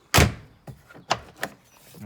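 A door on a Ford Excursion SUV opens with a solid latch thunk followed by several lighter clunks and knocks spaced irregularly over two seconds, fairly close and moderately loud.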